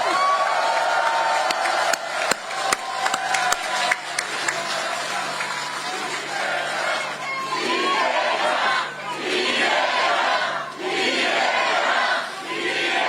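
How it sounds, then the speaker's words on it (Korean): A crowd at an outdoor political campaign rally in Dangjin claps and cheers in repeated loud waves, with shouts and whoops rising between bursts and a speaker's amplified voice heard at times. "박수 한번 쳐주세요."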